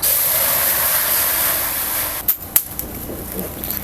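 Water goes into a large kadhai on a wood-fired stove with a loud, steady steaming hiss that runs for about two seconds. A few knocks and clatters follow as the hiss dies away.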